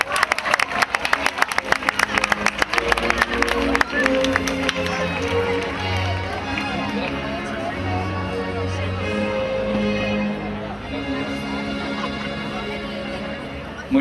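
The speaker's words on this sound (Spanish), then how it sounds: "Reciban con un fuerte aplauso a Carolina Díaz" An audience at the Serranilla de Mágina pageant in Huelma, 2014, claps loudly for contestant Carolina Díaz. Dense, crackling applause for the first few seconds fades under a swell of music that carries on alone.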